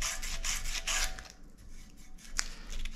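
Sandpaper rubs rhythmically inside the press-fit bottom bracket shell of a Gary Fisher bicycle frame, a close, raspy back-and-forth scratching in short strokes, with one sharp click near the end.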